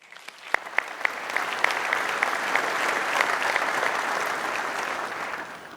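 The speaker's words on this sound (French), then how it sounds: "mérite d'être applaudie" Applause from a business forum audience after an opening address, starting with a few distinct claps then swelling into a dense, even wash of clapping that continues steadily.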